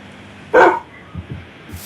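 A Minecraft dog lets out one sharp, close bark, followed by a few soft, low game sounds.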